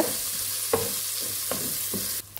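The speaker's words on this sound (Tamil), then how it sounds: "ஒரு 20 செகண்ட் நல்லா வதக்கி விட்டுக்கோங்க." Mint leaves being sautéed in a pan for mutton biryani, a soft, steady sizzle close by with a few light knocks of a stirring spoon against the pan.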